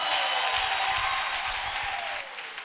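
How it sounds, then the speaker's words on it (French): A congregation applauds during a Christmas night Mass at Sainte Trinité church in Koumassi, steady dense clapping throughout that thins slightly toward the end. "Est-ce que quelqu'un peut se lever dans cette salle pour applaudir le Seigneur, pour acclamer le Seigneur?"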